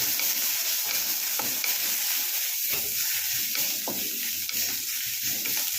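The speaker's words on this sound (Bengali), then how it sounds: "দিয়ে একটু ভেজে নেব। একটু সাঁতলে নেওয়া যেটাকে বলে।" Chillies sauté in a pan as the base for a broccoli soup, giving a continuous close hiss of hot oil broken by scraping stirs and a few soft clatters.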